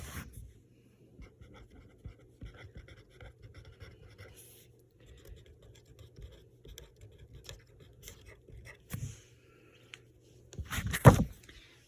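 Handwriting notes with a pen or marker on paper, producing faint intermittent scratchy strokes in short bursts, close to the microphone, ending with a louder brief scrape.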